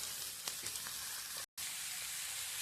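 Steady crackling sizzle of urohi beans frying in a hot pan, with one brief drop to silence partway through.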